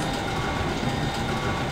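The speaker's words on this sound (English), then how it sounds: "please tell me I'm on the right train" Train from the video game Star Wars: Shadows of the Empire rumbling steadily with a continuous broadband roar and faint rail clatter, fairly loud and close, with no talking.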